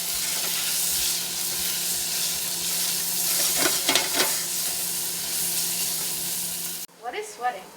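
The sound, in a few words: half an onion sweating in a pan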